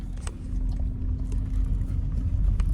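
A car drives along a road on the way out from a hike to Johnson Lake, giving a steady low rumble of engine and tyres with faint rattles and knocks throughout and no talking.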